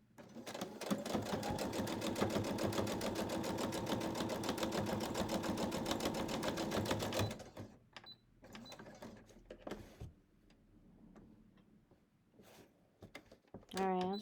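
A sewing machine stitches close to the edge of a quilted sunflower fabric coaster, a fast, steady mechanical whirring run lasting several seconds before stopping, followed by quieter handling clicks and a brief final burst.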